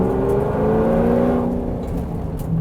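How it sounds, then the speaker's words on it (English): Bowler Bulldog with a 567-horsepower supercharged V8 revs hard, its engine note rising with a whining edge before easing off, loud and close over a short burst. "So we've got the supercharged V8 making 567 horsepower"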